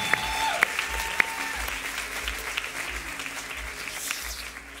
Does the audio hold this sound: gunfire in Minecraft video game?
no